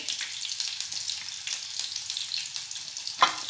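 Mustard seeds and green chillies fry in hot oil for split chickpea dal, giving a bright, dense crackling sizzle that holds steady and close, then a single sharp pop or clink near the end.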